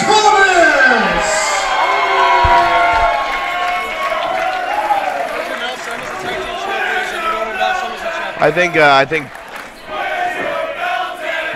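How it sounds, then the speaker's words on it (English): At a pro wrestling show, a large crowd chants loudly and rhythmically, filling the arena with sustained massed voices, plus bursts of cheering and a few sharp shouts near the end. "Then you hear the crowd with the Where's Your Belt chant."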